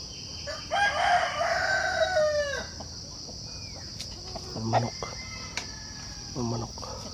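A rooster crows once in a forest, loud and fairly close, followed by a few short clucks and soft chirps amid quiet background insect buzz.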